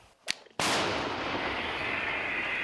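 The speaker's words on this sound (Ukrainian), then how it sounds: "Ну хоч стара гармата, але працює." An old artillery gun fires one loud, close blast that rolls into a long, sustained rumbling echo, preceded by a short sharp crack.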